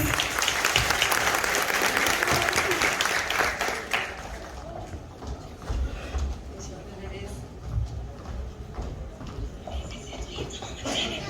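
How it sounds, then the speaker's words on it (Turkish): A crowd gives loud applause at a Children's University graduation ceremony, heavy clapping for about four seconds that thins out while voices and movement carry on in the hall. "O zaman kocaman alkışlarla başlıyoruz."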